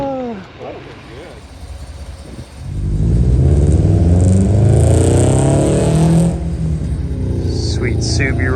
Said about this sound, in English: Sweet Subi rolling out.